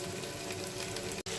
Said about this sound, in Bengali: মাছটা আমার ভাজা হয়ে গেছে